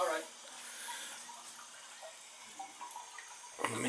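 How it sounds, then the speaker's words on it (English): Water runs from opened faucets upstairs in a house, flushing air from the lines after a boiler's tankless coil was replaced; a faint, steady hiss continues for several seconds before a louder knock at the end. "go upstairs and open up all the faucets, let all the air out"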